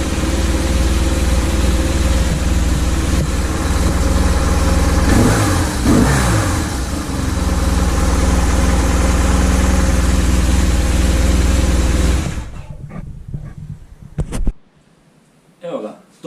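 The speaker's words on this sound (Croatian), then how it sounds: "Motor je sinkroniziran i pali ko singerica" BMW R1100 boxer motorcycle engine runs steadily and loudly up close at idle with a brief rev in the middle, then shuts off, leaving quiet clatter and a few handling noises.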